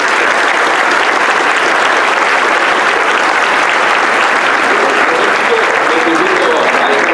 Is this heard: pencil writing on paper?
no